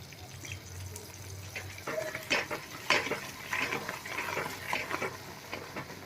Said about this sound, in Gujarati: હવે આપણે એમાં ગોળનું પાણી છે એ એડ કરી દઈશું.